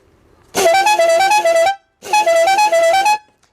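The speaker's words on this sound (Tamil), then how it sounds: "Branded horn. குவாலிட்டி நல்லா இருக்கும்." A loud, close musical car horn blares twice in a row, each a long multi-tone blast playing a short melodic pattern.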